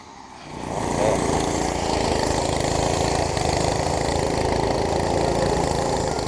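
Small weed whacker engine starting up and running at a steady buzzing drone outdoors beside a trail, moderately loud and continuous with no talk.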